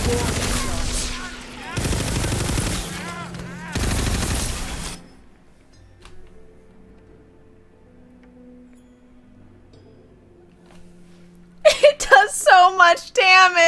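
Bursts of rapid gunfire in the video game Tiny Tina's Wonderlands, three loud sustained volleys over the first five seconds, then near quiet with faint game sounds before a speaking voice returns at the end.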